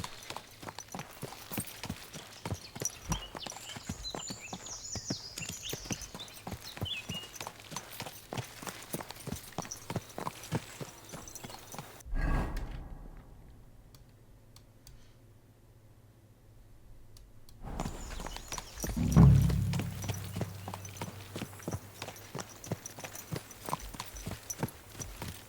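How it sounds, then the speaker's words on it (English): A horse's hooves trot with steady rhythmic clip-clops in Kingdom Come: Deliverance 2, the beat dropping out briefly midway before resuming, close and clear. "Why my horse doesn't want to go fast?"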